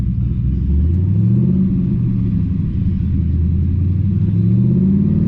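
A car engine revs during a manual six-speed takeoff, a loud, steady low rumble with rising and falling pitch as the throttle is pressed too hard.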